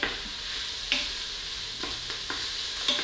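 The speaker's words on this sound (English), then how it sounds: "I'm just gonna let that warm through so the sausage starts to brown just a little bit." Veggie sausage, chopped into small half moons, frying in a pan for vegan chili mac and cheese: a steady broadband sizzle throughout, broken by a few soft stirring scrapes and clicks, close and moderately quiet, with no talking.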